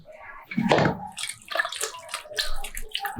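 Water is poured into a pressure cooker pot holding pieces of young jackfruit for a Maharashtrian bhaji, a short splashing gush that peaks early and then settles into softer sloshing.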